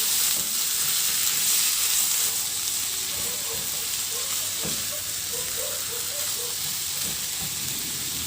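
Pork and tomato sautéing in a pan, a steady broadband sizzle filling the clip with light scraping stirs partway through, close and fairly loud, no talk.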